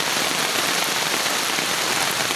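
Heavy rain pours steadily onto houses during a flood, a dense unbroken hiss of drops drumming on surfaces, loud and close with no pauses.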